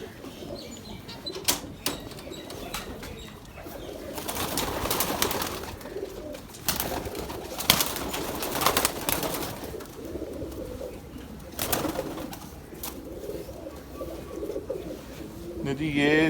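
Domestic pigeons in a breeder's loft, with soft cooing and occasional bursts of wing flapping spread across the clip, mixed with steady background bustle and someone talking intermittently.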